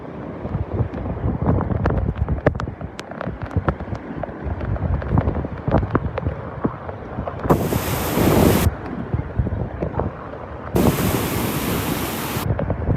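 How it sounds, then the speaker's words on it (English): Rough, continuous surf noise from crashing waves of up to five feet on a beach in North Naples, Florida, as Hurricane Elsa passes, heavily buffeted by wind rumbling across the microphone, with a couple of hissy bursts. "So there might be some 5-foot waves out there."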